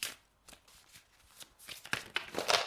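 A deck of tarot cards being shuffled by hand, with a run of quick riffling bursts that start soft and grow louder and denser toward the end, heard close up with no talking.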